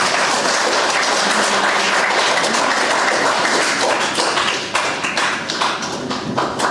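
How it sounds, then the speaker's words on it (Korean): A crowd at a book launch celebration in Korea breaks into sustained, dense applause, with many hands clapping loudly and continuously for several seconds before thinning slightly near the end. "박수 한번 보내주십시오."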